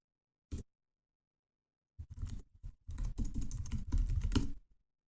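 A single key tap, a pause, then a rapid burst of clicky keystrokes on a computer keyboard, close and fairly quiet.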